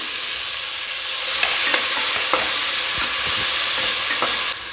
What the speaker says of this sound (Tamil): சின்ன வெங்காயம் இந்த தக்காளி கட் பண்ணி வச்சுருக்கேன் அதையும் போட்டுக்கலாம்